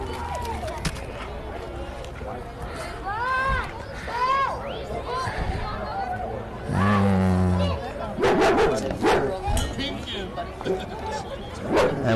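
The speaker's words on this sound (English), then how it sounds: "we got 2 dogs in the audience here" Dogs barking and yipping among spectators at a youth baseball game, several short sharp barks scattered through steady crowd chatter and nearby talking, moderately close.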